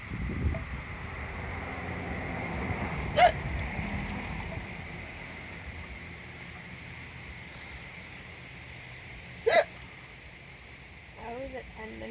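Someone in a pool has the hiccups: two short, sharp hiccups land several seconds apart over a steady outdoor wash of wind and water noise.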